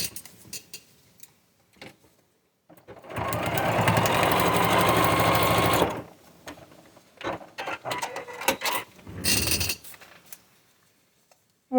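Sewing machine stitching quilt pieces, with a loud continuous run of about three seconds, then short bursts and clicks, another brief run later, close and alone without talk.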